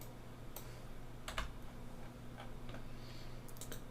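Keys clacking on a computer keyboard as shortcuts are typed, a few sharp isolated taps spread over a few seconds against a steady low electrical hum, close and fairly quiet.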